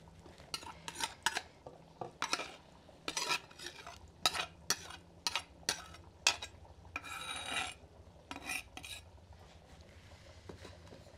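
A metal spoon stirs and scrapes through a sardine ceviche mixture in a bowl, giving a steady series of sharp clinks and scrapes with a brief rasping stretch, close and clear with no talking.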